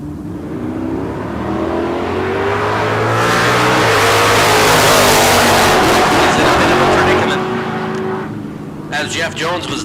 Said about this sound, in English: 71 model Camaro, 674 will be leaving first.